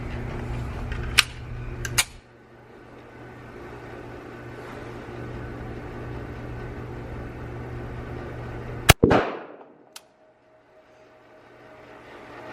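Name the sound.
SIG P365 pistol gunshots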